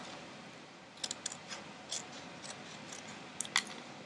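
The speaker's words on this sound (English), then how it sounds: "Then you're going to cut around, separating the bottom circle of the cup from everything else." Scissors snipping around the bottom of a paper cup, several quiet, irregular crisp cuts close by against a soft room hiss, with no talking.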